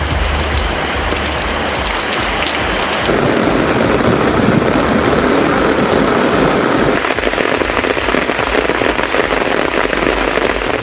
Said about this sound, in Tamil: நள்ளிரவில் இடியுடன் கூடிய கனமழை கொட்டி தீர்த்தது